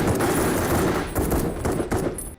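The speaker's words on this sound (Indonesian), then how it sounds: "Tim berhasil menghabisinya meski William sempat terkena tembakan yang menembus perutnya." Rapid gunfire rattles in dense bursts, loud and continuous, like a firefight in a film scene.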